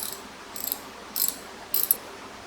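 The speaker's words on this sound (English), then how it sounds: "using my 10 millimeter, I'm going to loosen the bolts." Short ratcheting clicks from a 10 mm ratchet loosening mirror bolts on a Yamaha FJR1300 motorcycle, coming in four quick separate bursts against a quiet background.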